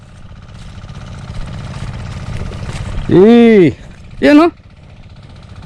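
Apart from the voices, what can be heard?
engine of an irrigation water pump running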